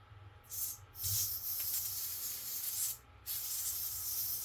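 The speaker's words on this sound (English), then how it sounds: "So we have a spray duster." Compressed air from a spray duster hisses in several bursts, broken by short pauses, fairly close and steady in tone, while cleaning Voron 2.4 3D printer linear rails.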